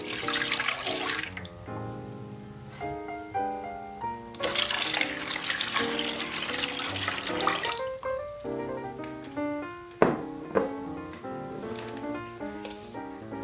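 Four cups of milk poured into a pot for white hot chocolate, a steady liquid pour that fills the kitchen for several seconds before trailing off into clinks and drips.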